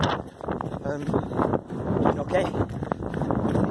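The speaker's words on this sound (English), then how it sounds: "Very windy, very open." Wind buffets the microphone in rough, broadband gusts on an open moor during an ultramarathon, while a person speaks briefly over it.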